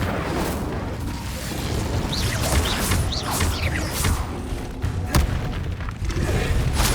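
The Incendio fire spell cast in Hogwarts Legacy on PS5 lets out a run of heavy booming bursts and crackling impacts, loud and continuous throughout.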